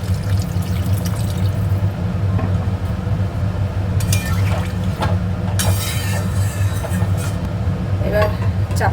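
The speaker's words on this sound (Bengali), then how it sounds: "জল দিয়ে দেবো জলটা একটু বেশি দেবো" Water is poured generously into cooking masala for kofta curry, making a short splashing, gurgling pour midway over a steady low background hum, with brief sharp clinks around it.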